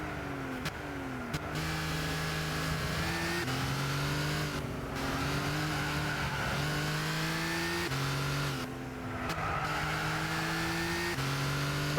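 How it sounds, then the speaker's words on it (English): Car engine in the racing video game Gran Turismo 6, revving and droning steadily with repeated rises in pitch and abrupt drops at gear shifts, moderately loud and alone without talk. "Listen to this car hum."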